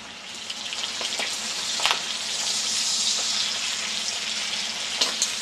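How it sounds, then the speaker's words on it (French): Chicken pieces searing in foaming butter for a fricassee, a bright steady sizzle that swells and stays close and loud, with a few soft clinks and no voices. "Quand le beurre devient mousseux, raidir les morceaux de viande."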